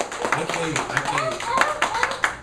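Scattered clapping comes from an audience at an open mic in a coffee shop, with sharp claps mixed under clear overlapping voices.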